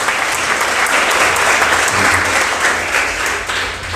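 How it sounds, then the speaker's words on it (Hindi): Congregation at a church service clapping together in sustained, loud applause, a dense steady patter of many hands filling the room throughout. "एक अच्छी ताली प्रभु के जोर से।"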